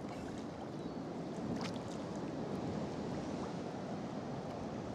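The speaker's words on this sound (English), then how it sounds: "now the swell's building again" Sea swell building around a small boat off the Irish coast, heard as a continuous low wash of water and rumble with faint wind noise, steady throughout and without voices.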